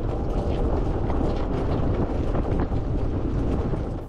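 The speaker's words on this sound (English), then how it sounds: "we motored straight into the wind." A sailboat motoring straight into the wind off the coast near Stiltsville, giving a loud, steady broadband roar of wind buffeting and engine drone with no pauses.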